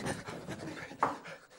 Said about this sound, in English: Why are you breathing like a dog?